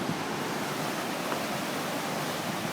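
Floodwater of the Sawmill River in Yonkers, New York after Hurricane Irene, a constant roaring wash of rushing water, dense and steady throughout with no talk.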